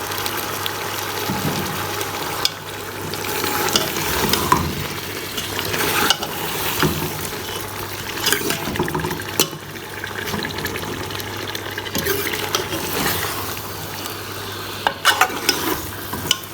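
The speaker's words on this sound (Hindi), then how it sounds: "अब हम इसमें टिंडे डाल के 10 मिनट इसको मज़ीद भूनेंगे" Tinda (round gourd) and meat frying in oil make a soft, continuous sizzle with intermittent stirring scrapes and clatters close by, and no talking.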